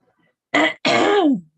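Two rough throat-clearing coughs from a woman chatting on a true-crime discussion stream, close and loud, the second longer and trailing off.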